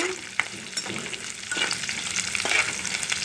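Dried fish fries in hot oil with a close, steady crackle and sizzle. A few soft stirring knocks sound over it, with no voices.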